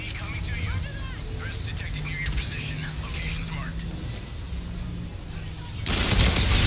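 Type 2 gun firing in the video game Infinite Warfare, heard as rapid bursts of gunfire mixed into busy game sound effects, with a voice over the action and a loud noisy burst near the end.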